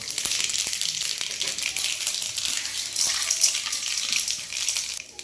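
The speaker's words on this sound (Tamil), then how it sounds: "கடுகும் கடலப்பருப்பும் போட்டிருக்கோம்." Mustard seeds and chana dal fry in hot oil in a heated pan, giving a steady, bright crackling hiss that carries on without a break and without any talk.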